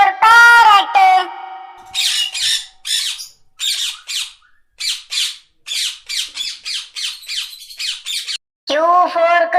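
A parrot squawks in a rapid run of short, harsh, loud bursts, about a dozen in quick succession, framed by sung voices at the start and end.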